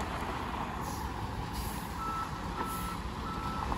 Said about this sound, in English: My old buddy Dwight, not a problem slithering in here with the big truck, huh?